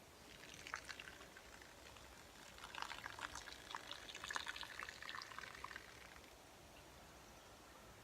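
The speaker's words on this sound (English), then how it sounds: "Pour it into the tray." Water drained from a smoker's bottom tray pours out in a steady, faint splashing trickle that runs for several seconds and thins toward the end, heard up close without any voices.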